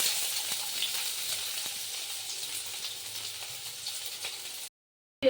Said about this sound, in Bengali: পেঁয়াজটা লাল লাল করে ভাজা হয়ে গেল